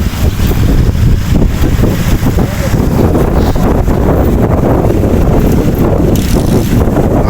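Wind blows hard at an outdoor eatery in Tinggalan, buffeting the microphone with loud, rumbling gusts that continue throughout, with voices partly buried beneath.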